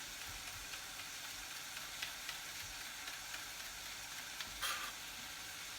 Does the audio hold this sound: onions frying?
yes